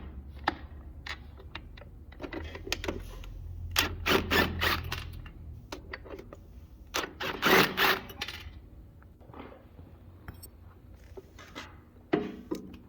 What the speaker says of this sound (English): Loosen the 4 motor mount nuts using an impact or ratchet with a long extension and a 1/2 inch socket